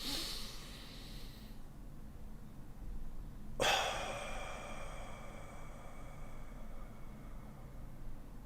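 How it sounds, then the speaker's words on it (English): A slow, deep breath taken during a short guided meditation: a long airy inhale, then a sharper rush of breath mid-clip that tails off into a soft hiss, close and quiet, with no talking. "Breathe in."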